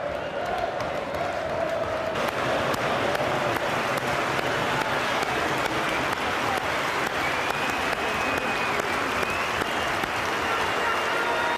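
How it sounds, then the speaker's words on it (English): A crowd applauds at a football ground, steady sustained clapping filling the whole stretch, with voices faintly mixed in. "Mate can give you a clap."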